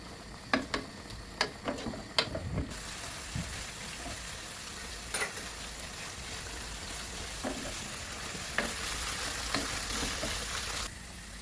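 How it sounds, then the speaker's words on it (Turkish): Chicken and mushrooms sauté in a pan for creamy pasta, with a steady broad sizzle under scattered clicks and scrapes of a spoon stirring, close and moderately loud throughout. "Daha sonra karıştırıyoruz. Biraz da bu şekilde pişmeye bırakıyoruz. İyicene sotelensin."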